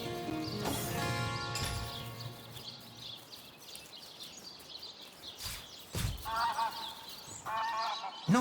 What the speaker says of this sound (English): Those are only chickens. And plump, juicy ones at that.